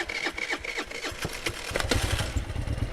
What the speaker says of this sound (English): I have a dirt bike